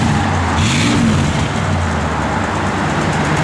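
A 1964 Chevrolet Impala SS drives along on a chilly day, its engine a loud steady rumble with a brief rise in pitch as it pulls, heard from inside the car with no talk.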